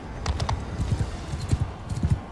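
Horse hooves clip-clop in a rapid, uneven rhythm during an arena fight in Mount & Blade II: Bannerlord, close and moderately loud with no talk.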